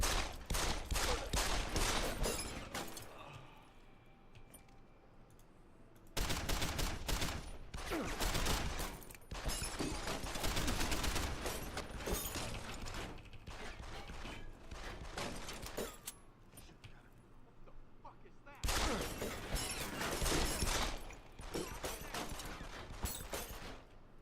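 Sustained bursts of rapid gunfire from the Deus Ex: Human Revolution video game, dense rattling volleys running almost continuously, broken by two brief pauses before the shooting resumes at full loudness.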